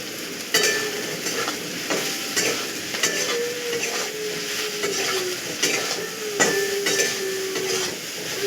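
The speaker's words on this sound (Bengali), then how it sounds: "তেলের মধ্যে সোয়াবিনটা দিয়ে ভেজে নেবেন" Soybean chunks fry in hot oil in a pan with a continuous close sizzle, broken by repeated scraping and stirring strokes of a utensil and no talk.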